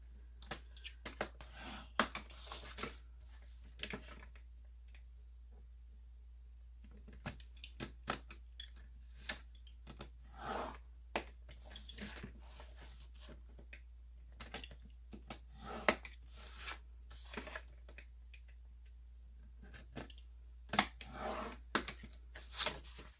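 Grapefruit Grove cardstock is scored on a score board in a quiet room, producing a series of short scraping and clicking strokes in irregular bursts, fairly faint, with no talk.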